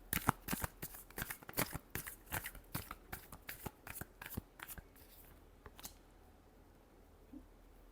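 Tarot cards being shuffled by hand, a fast run of crisp riffling slaps and flutters up close, thinning to a few last snaps before quiet.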